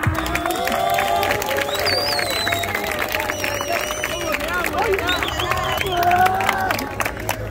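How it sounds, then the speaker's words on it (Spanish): Crowd at an outdoor freestyle rap battle clapping and cheering in a steady, loud roar of applause and shouts that continues throughout, with voices mixed in. "¡Fuerte aplauso!"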